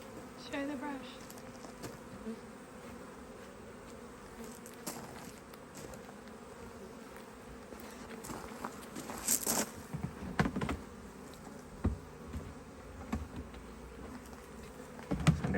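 Honeybees buzz around an open hive, their steady insect hum filling the scene at moderate level, with brief louder bursts as individual bees fly close past the microphone.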